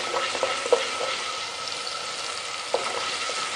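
Masala for palak paneer fries in a pan with a steady close sizzle, punctuated by a few light scraping clicks from a stirring spoon, with no speech.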